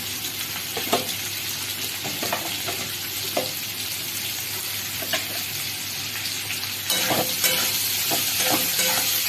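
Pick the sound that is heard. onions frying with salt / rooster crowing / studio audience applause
onions frying with salt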